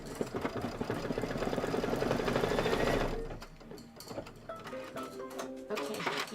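An embroidery machine stitches a twine tack-down line, a steady rapid mechanical rattle for about three seconds, then stops, leaving quieter clicks and faint background sounds.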